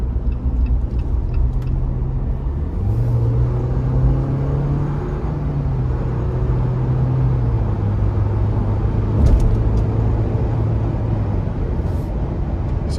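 Cabin view of a 2023 Jeep Wrangler Sport S two-door with the 2.0 turbo four-cylinder accelerating, engine drone rising in pitch through a gear change over steady road rumble, with no talking.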